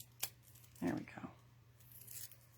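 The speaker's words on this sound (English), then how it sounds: "We'll put a piece of tear and tape there." A piece of clear Tear and Tape adhesive is torn from a roll during paper crafting: one short, near tearing rip with a brief crinkle, under a quiet room hum, with soft talk around it.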